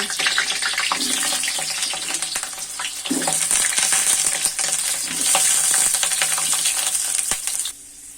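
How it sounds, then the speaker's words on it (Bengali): Washed pointed gourds fry in oil in a wok, a loud crackling sizzle mixed with metallic clinks and scraping as they are stirred, fading down at the very end. "পটলগুলো এখন আমি লবণ হলুদ দিয়ে ভালো করে ভেজে নিব"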